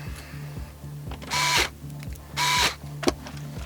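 Short bursts of a cordless power screwdriver driving a screw while a PC graphics card is fitted into a case, two clear whirring bursts with a click afterward over a steady low hum.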